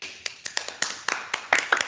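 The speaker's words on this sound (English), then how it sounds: "let's clap for ma'am the way we do it at school" Children on a video call clap together in a quick uneven run of about a dozen sharp claps, faint and slightly tinny over the call audio.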